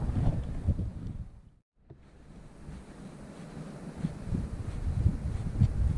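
Gusts of wind buffeting the microphone beside water while fly fishing in Patagonia, rough rumbling bursts that drop away briefly and then build again, mixed with surf-like wash.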